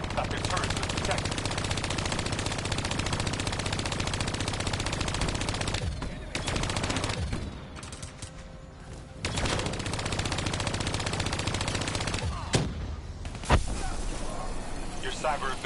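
Sustained bursts of automatic weapon fire from a Black Ops 3 campaign mission, loud and continuous, with short pauses and a few sharp single shots.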